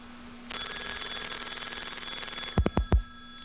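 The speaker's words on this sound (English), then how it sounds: "And your computer is ringing." A computer's modem rings on an incoming phone call: a steady electronic ringing tone starts sharply and holds for about two seconds, then a few brief thumps or clicks follow near the end.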